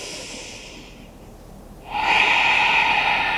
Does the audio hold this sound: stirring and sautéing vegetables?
no